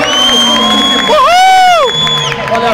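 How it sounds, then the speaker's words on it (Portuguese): A crowd cheers and shouts at a Ferrari and Formula 1 showcase as driver Luciano Burti arrives, loud and close, with sustained whistle-like tones and voices mixed through the noise. "vamos aplaudir!"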